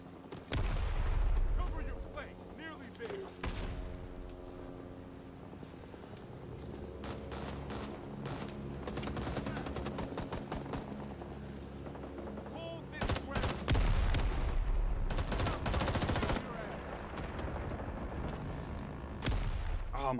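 AC-47 gunship fire in Rising Storm 2: Vietnam, a battlefield with bursts of rapid gunfire, sustained low rumbling and loud impacts, heaviest near the start and again later on.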